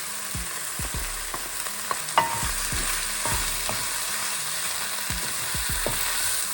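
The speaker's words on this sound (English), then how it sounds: "We'll now add our frozen veggies. Add green onion." Frozen vegetables and green onion stir-frying for coconut fried rice, a constant bright sizzle under repeated thuds and scrapes of a spatula in the pan, close up, with no voices.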